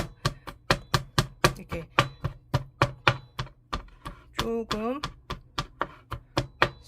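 A knife mincing garlic on a cutting board makes a fast, steady run of crisp chopping taps, close and even in rhythm, with a person speaking briefly in the middle as the chopping continues.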